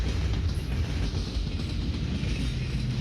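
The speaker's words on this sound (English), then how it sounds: "on your right, you'll hear a train approaching the city gates" A train approaches the city gates in Pitch Black: A Dusklight Story, a steady rumbling rail drone with faint clattering, moderately loud and unbroken throughout, with no talk over it.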